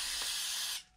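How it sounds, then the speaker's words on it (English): An aerosol spray can hisses steadily onto the steering box of a VW Super Beetle, a loud, continuous spray lasting most of a second before cutting off abruptly. "keep spraying"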